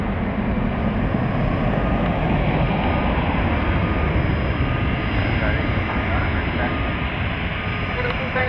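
A jet airliner takes off from RSW airport, giving a loud, continuous engine roar that holds steady throughout.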